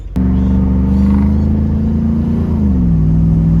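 A Nissan Patrol Y62 SUV's bimodal cat-back exhaust, valves open, gives a loud, deep drone that holds steady while the engine pulls on the road, with a slight pitch drop near the end; no talking.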